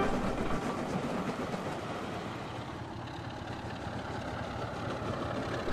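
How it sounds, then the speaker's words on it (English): Steam locomotive 7101 labours up a hill, its engine giving a steady, loud rumbling roar with a faint rhythmic rail clatter that holds throughout, with no voices. "7101's engine roared"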